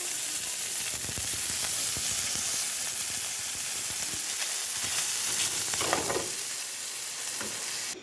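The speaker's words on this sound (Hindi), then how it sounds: "तो इस ऑयल में हम चिकन डालेंगे," Chicken sizzling and frying in a pan of hot oil for noodles, a steady close crackling hiss with occasional stirring scrapes throughout.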